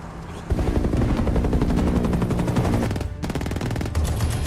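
Machine gun fire in a film, aimed blindly at a helicopter in the sky. Loud, sustained rapid bursts are heard over a low engine-like rumble, with a brief pause before the firing resumes.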